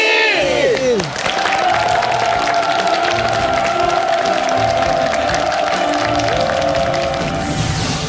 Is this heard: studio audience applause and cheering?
yes